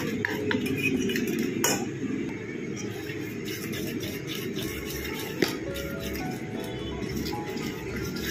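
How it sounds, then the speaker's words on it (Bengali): Batter of salt and baking soda being whisked in a bowl by hand, a steady scratchy rustle of utensil against the bowl with a few sharper clinks, close and continuous, no talking. "এটা ভালো করে ফেটিয়ে নেব।"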